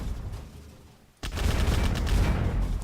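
Video game gunfire while shooting at crowds of enemy bots: after a quieter lull, a sudden loud blast opens into dense, continuous heavy firing and explosions that fill the rest of the moment.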